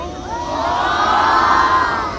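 A crowd gathered for a shoot of a traditional martial performance shouts and cheers together in one sustained, loud roar of mixed voices, many of them high and youthful, swelling and then easing off.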